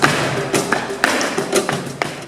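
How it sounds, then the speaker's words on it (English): Flamenco dancers' shoes striking hard on the floor, a series of sharp, loud stamps and taps in an irregular rhythm against a busy room background. "the intense and piercing noise that the dancers make when they hit their shoes hard on the floor"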